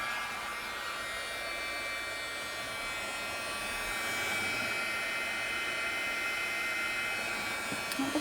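A heat embossing tool blows hot air in a steady, even whoosh with a faint whine, running continuously at moderate level for several seconds, with no voices.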